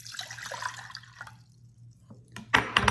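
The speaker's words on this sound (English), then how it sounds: "So now I'm going to take a pot, add the water." Water pours briefly into a pot for cooking rice, a soft liquid splash rising near the end of a quiet kitchen moment with a steady low hum underneath.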